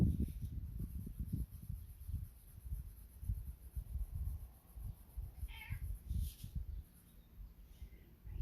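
A cat meows a few times indoors, soft and somewhat distant, with some faint background noise and small clicks.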